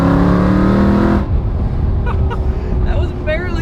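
A 2020 Shelby GT500 engine revs hard in third gear with a loud harmonic whine that cuts off abruptly, followed by low idle rumble and faint squeaks.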